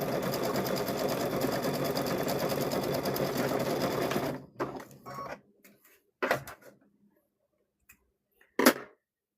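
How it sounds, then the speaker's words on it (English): A sewing machine stitches the corners of a fabric microwave bowl koozie in a fast, steady close run for about four seconds, then stops, leaving a few faint handling clicks and short bursts of motion. "Sewing all the corners."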